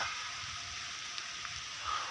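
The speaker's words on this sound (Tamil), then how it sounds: "இந்த மரத்தில் வந்து பார்த்திங்கன்னா மழை இப்படியே சொட்டிகிட்டே இருக்குது" Rain dripping from a tree, a soft continuous hiss of falling water with a few faint individual drip ticks, steady and moderately quiet.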